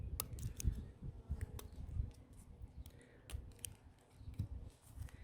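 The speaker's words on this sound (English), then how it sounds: "we can trim off the other ends with the scissors" Scissors trimming the loose ends off a bubble-wand cube net, a series of quiet, close snips and small handling clicks spread unevenly over a few seconds, with no voices.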